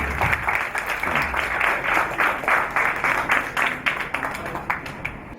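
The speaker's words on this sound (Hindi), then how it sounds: "इसलिए इनके लिए फिर तालियां बजाएं" Audience at an Urdu mushaira applauding a young poet, a dense, steady wash of many hands clapping close and loud throughout, with faint murmuring beneath.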